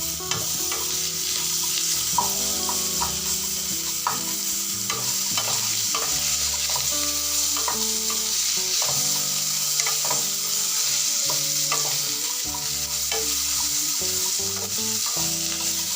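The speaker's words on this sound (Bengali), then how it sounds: "এবার আদাটা যতক্ষণ না আদার কাঁচা গন্ধটা যাচ্ছে আদাটা ভাজা হতে দিলাম।" Ginger sizzles with potatoes in hot oil in a pan, a constant frying hiss broken by repeated scrapes and stirs of a utensil across the pan, close up and without talk.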